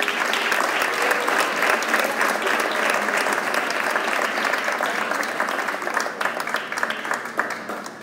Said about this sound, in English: Let's give us a round of applause to Aaron Benassaraf.